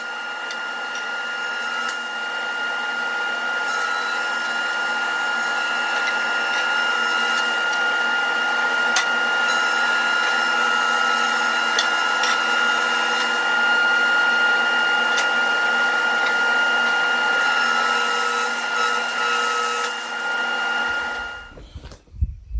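A woodworking machine mills walnut and cherry boards in a steady, loud, continuous whine with a tonal hum, running for about twenty seconds before spinning down and stopping.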